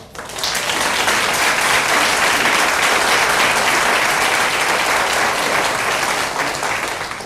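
Sustained applause from a seated audience at a school board of education meeting, steady and fairly loud for about seven seconds before tapering slightly at the end, with no speech over it.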